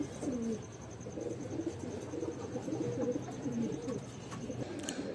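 Bajre pigeons in a loft coo in low, repeated murmurs, several birds overlapping steadily at moderate distance, with faint chirps and a soft background hiss throughout.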